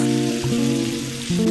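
Lamb brisket stir-frying in a wok for a lamb hot pot, a loud continuous sizzle with a tonal hum running underneath, no speech.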